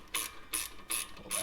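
A ratchet with an extension turning a 10mm nut during a front shock install on a 2003-2008 first-generation Honda Pilot, making four quick, evenly spaced metallic clicking bursts, close and fairly quiet, with no talk.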